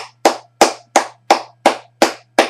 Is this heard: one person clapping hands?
yes